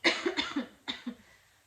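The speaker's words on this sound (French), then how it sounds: "je suis désolée de tousser comme ça" A woman coughs several times in quick succession, close and fairly soft, with a short pause before the last couple of coughs.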